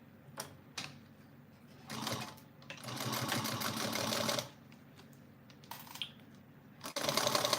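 A sewing machine stitches a small box bag in short bursts of fast mechanical clatter, separated by quiet pauses and clicks, with some bursts sounding rough and uneven.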